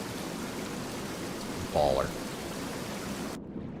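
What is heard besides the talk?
waterfall water rushing in Tainted Grail video game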